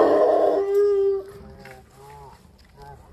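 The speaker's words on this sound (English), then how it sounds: "Always a dog" A dog lets out a long, drawn-out howl that rises and then trails off into softer, wavering cries, fairly close and with no one talking.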